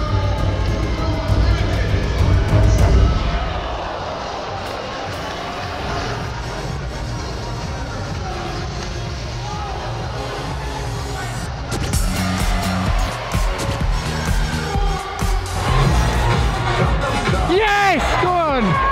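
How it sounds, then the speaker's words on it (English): Thousands of fans in a stadium at a celebrity football match, a steady wash of crowd noise with cheering and applause throughout, heard under a commentator's talk and swelling again toward the end. "milking the applause to the"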